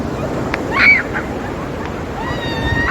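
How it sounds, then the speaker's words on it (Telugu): Surf at Rushikonda beach washes in as a steady, broadband roar of breaking waves, with a brief swell in loudness near the start and faint high chirps drifting over it. "అలలు అయితే కొద్ది పెద్దగా వస్తలేవు"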